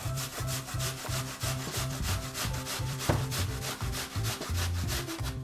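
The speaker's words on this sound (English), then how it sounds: "use the large holes on a box grater in order to shred this apple" A Granny Smith apple is scraped down the large holes of a box grater, giving a steady run of rhythmic rasping strokes, close and fairly loud, with no talking.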